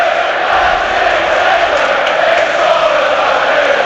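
Large football crowd at a Premier League match between Nottingham Forest and Chelsea, a steady, loud wash of massed voices jeering and shouting at the referee, sustained and dense throughout with no single voice standing out.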